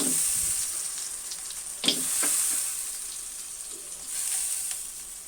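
Heron meat sizzles as it is sautéed in spice paste, a steady frying hiss with a few louder stirring scrapes partway through, close and with no talk.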